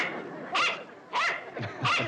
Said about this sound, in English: Come on, bark.